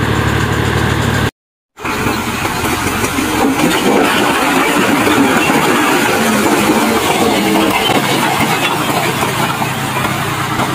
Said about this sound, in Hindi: ये देख सकते अभी भी ट्रैक्टर इधर खड़ा हुआ है, अभी ये जा रहा है।